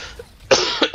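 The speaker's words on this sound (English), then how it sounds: "I kind of have a cough today." A couple of short, sharp coughs close by, following a brief quiet moment.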